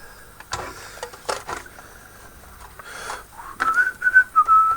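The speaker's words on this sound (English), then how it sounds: "Always a little whistle" A person whistles a short tune while building a Tamiya 1/35 scale Tiger I late tank model, the close whistled notes rising at the end between light clicks and handling of small plastic parts.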